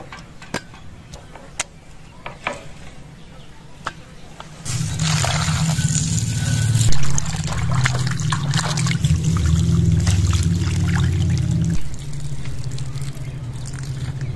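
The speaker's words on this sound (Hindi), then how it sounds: "गोश्त को हमने टुकड़ों में काट दिया है। अब इसको अच्छी तरह से धो लेते हैं।" Cut mutton pieces being washed in water, with faint clicks and splashes at first, then a louder steady rush of running water and sloshing for several seconds before it eases, no talk.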